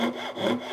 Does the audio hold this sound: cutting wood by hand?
yes